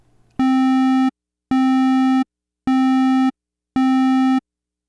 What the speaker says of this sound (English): A square wave also has only odd harmonics, but the harmonics are more prominent than in a triangle wave,